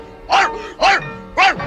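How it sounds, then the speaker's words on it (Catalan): A dog barks three times in a sharp, evenly spaced series, each bark loud and close with short quieter gaps between, with no talk over them, in a cartoon scene. "Vinga, gos inútil!"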